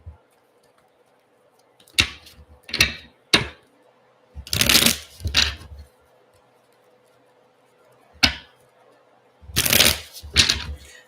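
Several separate bursts of tarot cards being shuffled by hand, quick riffling rustles with short pauses between them, close and fairly clear.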